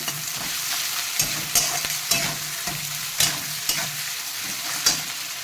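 Tomatoes and onions fry in a pan with a constant crackling sizzle, broken by regular scraping and tapping as a spatula stirs them.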